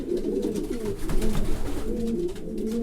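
Several racing pigeons coo continuously in nesting boxes in soft, overlapping rolling calls, close by, with low murmuring throughout and no talking.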